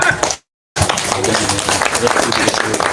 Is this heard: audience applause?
yes